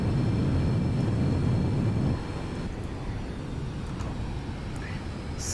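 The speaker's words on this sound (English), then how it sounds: "the plane's taking off and it's still accelerating, even at this pitch" An Antonov An-225 cargo plane takes off with a continuous broadband engine roar. The roar is heavy and low at first, then steps down to a steadier, thinner rush as the aircraft climbs away.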